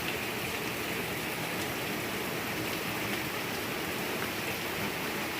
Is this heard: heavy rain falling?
yes